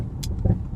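Low, steady road rumble fills the inside of a moving car, a constant near drone with a couple of brief faint rustles and no talking.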